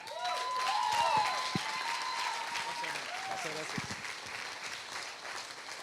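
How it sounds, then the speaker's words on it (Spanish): Church congregation applauds to welcome a pastor onto the stage, a steady wash of clapping lasting several seconds, loud at first and easing slightly, with a voice briefly sounding over it. "yo quiero que recibamos con un fuerte, fuerte aplauso a Ulises Oyarzún."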